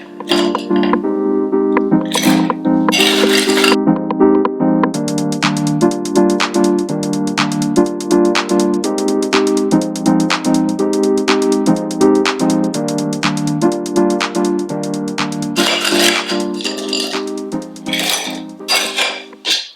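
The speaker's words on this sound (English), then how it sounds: "we have our lime, we have our Midori, we have our vodka, and we're going to add ice" Ice cubes rattle and clink as they are added to a cocktail shaker holding lime, Midori and vodka for a holiday cocktail, a dense run of bright clattering hits that stays loud and close throughout with no talk.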